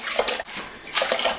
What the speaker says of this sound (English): I always do wash the rice twice.